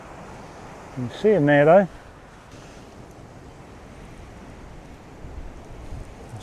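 Wind gusts over open water where fishing is under way, a continuous rough rumble of wind noise on the microphone, and someone briefly speaks partway through.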